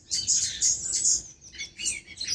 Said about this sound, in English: There's birds fighting in the bushes.